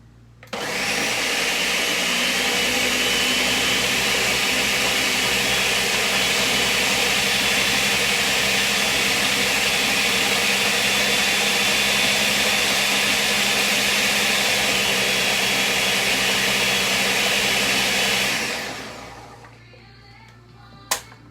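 A kitchen blender runs at full power for about eighteen seconds, a loud steady whirring motor drone that then winds down and stops, followed by a single sharp click.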